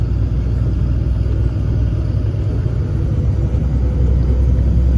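A truck engine rumbles loud and close as it is driven, a steady, heavy low drone that runs unbroken throughout.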